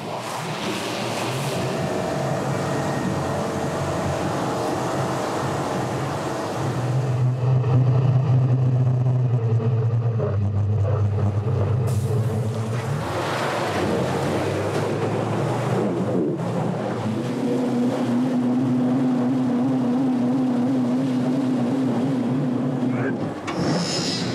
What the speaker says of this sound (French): Le bus est dans une ornière. Il glisse et je n'arrive pas à en sortir.